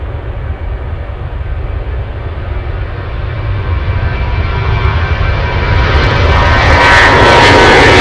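A UPS heavy jet takes off at Anchorage airport, its engine roar building steadily louder and brighter as it powers up, loud and close with no talk over it.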